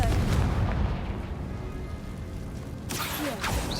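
A Confringo fire spell goes off in Hogwarts Legacy as a heavy booming blast with a rumbling tail, followed by a second sharp burst near the end.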